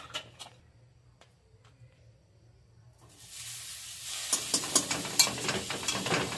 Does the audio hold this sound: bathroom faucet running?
no